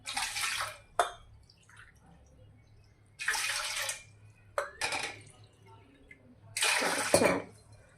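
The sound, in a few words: water being poured into a container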